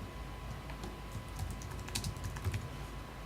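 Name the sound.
typing a keyboard shortcut on a computer keyboard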